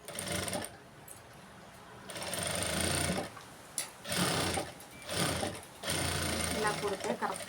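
A sewing machine stitches a blouse belt in loud, close bursts of rapid mechanical chatter, starting and stopping several times with short pauses between runs, while someone talks.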